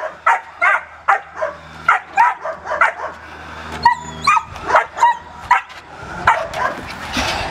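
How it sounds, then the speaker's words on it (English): A young personal protection dog in bite training barks repeatedly and loudly at close range, about a dozen sharp evenly spaced barks with a few higher yips and whines mixed in. "It's a tremendous young dog."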